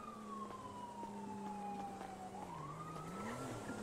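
A police squad car siren in the Windy City RP video game wails in a steady rising and falling sweep, loud and continuous, with no talking.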